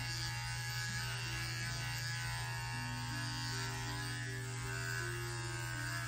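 Electric dog clippers hum steadily while trimming the coat of a Schnauzer, giving a constant close buzz with a strong hum underneath and no speech.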